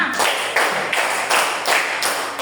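A class of students claps hands together in rhythm, five or six sharp, loud group claps evenly spaced about every third of a second, with no talking between them.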